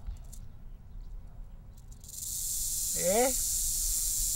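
Rattlesnake with six hollow tail segments: a steady hissing rattle that starts about halfway and continues to the end, with a short vocal murmur over it and a brief spoken word at the start.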